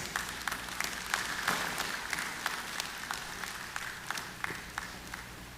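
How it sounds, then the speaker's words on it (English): Crowd at a national day observance ceremony applauding Medal of Honor awardees, a distant, moderately quiet round of clapping with distinct individual claps popping out of the steady patter. "a final round of applause for the awardees who have received the Services Medal of Honor for 2022"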